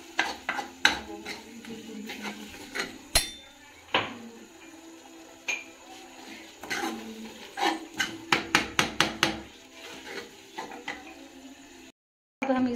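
A metal spoon stirs and scrapes ridge gourd sabzi with garam masala in a pan, with repeated sharp clanks and knocks against the pan, including a fast run of taps near the end, close and loud.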